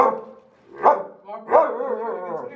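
A man imitates a German Shepherd barking, giving two sharp, voiced barks followed by a drawn-out growling whine, close and loud with quiet gaps between.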